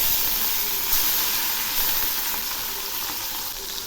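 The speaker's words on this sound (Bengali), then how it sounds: "বাকি মাছগুলোও ভেজে নিচ্ছি" Fish pieces frying in hot mustard oil in a pan, a steady, close, continuous sizzle and crackle of oil without pause, with no one speaking.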